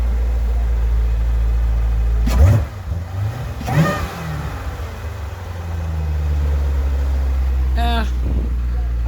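A C7 Z06 Corvette with a supercharged LT4 V8 and a Mechanical Power lid idles with a deep, steady rumble, then takes a couple of short throttle blips and a final quick rev, all close up while someone talks.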